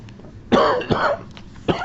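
A few rough, forceful coughs, three or four bursts spaced unevenly, close to the microphone with no talking.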